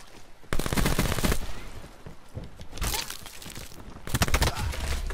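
VMP submachine gun in Black Ops 4 firing in rapid full-auto bursts, three loud rattling strings separated by short pauses, close and punchy with no talk over it.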